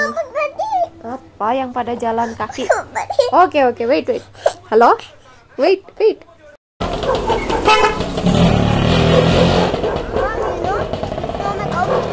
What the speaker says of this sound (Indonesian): meskipun banyak kendaraan yang lalu lalang, mereka itu jalannya pelan